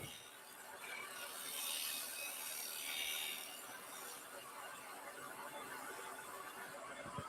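Steady rasping of a tool scraping wood on a spinning lathe during woodturning, continuous and fairly close, with no talking.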